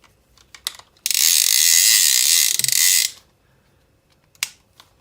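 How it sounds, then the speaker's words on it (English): The side ratchet on a Shimano TLD 20 fishing reel buzzes in a fast, loud, continuous clicking burst for about two seconds as line pulls out, framed by a few quieter handling clicks. "Ratchet on the side, so if you're fishing for things like sharks,"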